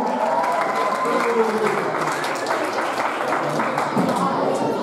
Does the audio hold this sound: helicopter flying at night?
no